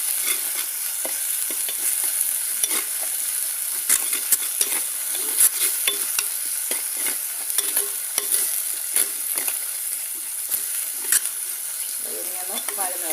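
Ingredients, including a small piece of asafoetida, sauté in a pan for a Kerala tuna curry with kudampuli, a constant bright sizzle overlaid by frequent rhythmic scrapes and taps of stirring, close and fairly loud.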